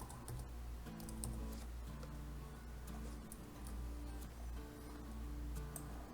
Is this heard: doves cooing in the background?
no